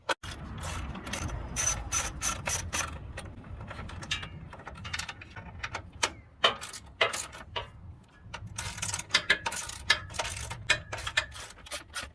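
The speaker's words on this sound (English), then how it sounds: "there's going to be 1, 2, 3, 4 more bolts that we need to loosen, 2 on the bottom and 2 on top" A ratchet loosens the bolts holding the factory fog light kit on a 2021 Ford Bronco bumper, with bursts of close, sharp clicking that pause and restart, plus occasional metallic knocks and no speech.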